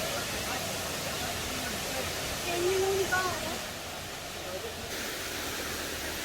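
Waterfall at a hot spring site in Songkhla, a steady broadband rush of falling water heard nearby, with someone talking briefly over it midway.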